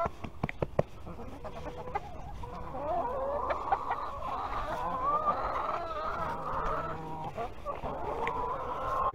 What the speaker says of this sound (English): the chickens can get right underneath them